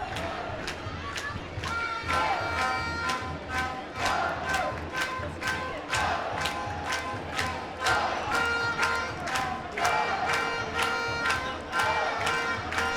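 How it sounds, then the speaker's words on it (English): A stadium crowd at a football match between Brunei DPMM and Hougang United roars and cheers after a foul earns a free kick, a loud sustained swell of voices punctuated by rhythmic claps and thumps throughout. "a sheer cheer of delight from the crowd"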